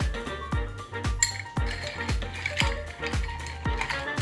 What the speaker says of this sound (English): Add some ice and stir.